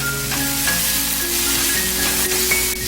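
Sliced onions stir-fry in a hot pan with soy sauce, corn syrup and a little black pepper, a steady, close, loud sizzle with faint scraping from stirring.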